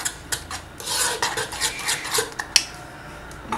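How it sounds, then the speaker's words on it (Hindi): A spoon stirs gram flour batter for besan cheela in a bowl, giving quick repeated scraping and clinking strokes that sound close and moderately loud, with no talk. "एंड हम उसको थोड़ा सा फिर से मिक्स कर देंगे."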